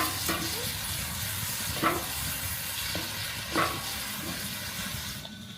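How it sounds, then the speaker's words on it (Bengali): Chicken chow mein ingredients with bell peppers are stirred and fried with a wooden stick, giving a steady sizzling hiss broken by a few soft scraping strokes, with no talk. "তারপর সবগুলো উপকরণ ভালোভাবে কাঠি দিয়ে নেড়ে মিশিয়ে ভেজে নিচ্ছি।"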